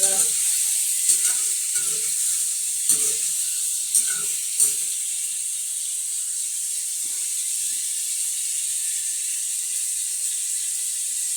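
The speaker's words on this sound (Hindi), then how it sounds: "अब मैं इसमें सारे मसाले डाल दूँगी" Spices go into pumpkin curry frying in a pan, giving a steady close sizzle with a few scraping stirs early on, then an even hiss that carries on alone.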